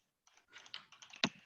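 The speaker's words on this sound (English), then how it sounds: "Typing that up right now just to make sure." Typing on a computer keyboard, a quiet, close run of irregular key clicks after a short silence, ending with one sharper, louder keystroke.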